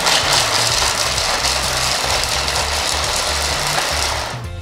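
An 800 W Blackline 8222 food processor grinds steadily at close range with a loud, harsh motor whine and rattling chop, continuous for several seconds before cutting off abruptly, with no talk.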